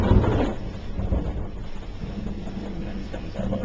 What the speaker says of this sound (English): very electrical storm